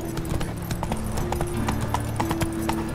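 Horse hooves clip-clop steadily in The Witcher 3: Wild Hunt, a quick even rhythm of close, distinct hoofbeats over a low tonal drone from the game.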